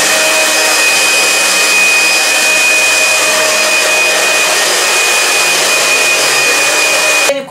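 A handheld hair dryer with its nozzle removed blows a cold-air stream during a straight blow-dry styling, a loud steady whoosh with a constant whine held throughout, then cutting off abruptly at the end.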